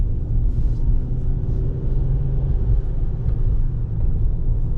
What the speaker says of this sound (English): I'll just keep on driving away.